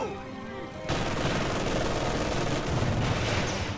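Sustained MG-42 machine gun fire from Company of Heroes 2 erupts abruptly and rattles on steadily, a dense rapid stream of shots mixed with battlefield noise, loud and close after a brief quieter lead-in.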